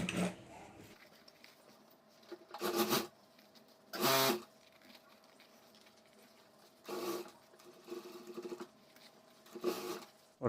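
A sewing machine stitches fabric for a homemade school bag, running in several short bursts of motor whir separated by quiet pauses, fairly near.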